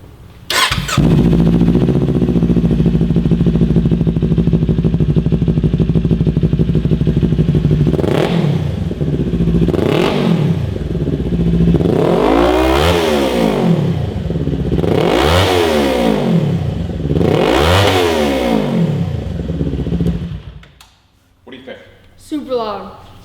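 A 2018 Kawasaki Ninja 400 fitted with a Two Brothers S1R slip-on exhaust idles loudly and close, then gets four sharp revs that rise and fall in steady succession before cutting off abruptly.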